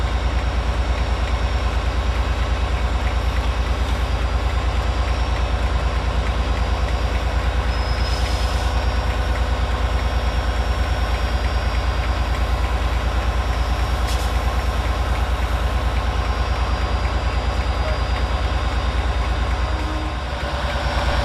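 A Northern class 156 diesel unit, 156491, arrives to terminate at Carlisle station from Barrow-in-Furness, a steady loud engine rumble and idling drone with faint squeals, holding nearly constant throughout.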